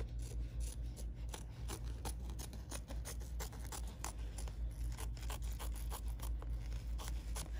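Scissors snip repeatedly around an embroidered machine-appliqué shape, a quick, close series of crisp cutting clicks and fabric rustles with no talking.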